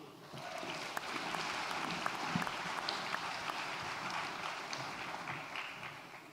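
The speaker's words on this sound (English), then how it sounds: "Please, one round of applause for all of our graduates." Steady applause from a large audience in a hall at a university graduation ceremony, a soft, even wash of many hands clapping at a distance, quiet and sustained with no voices standing out.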